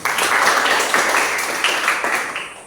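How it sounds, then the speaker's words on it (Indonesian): A classroom of students claps for a classmate, a dense burst of applause that stays steady and fairly close, then tapers off toward the end. "Tepuk tangan tuh Bona dulu."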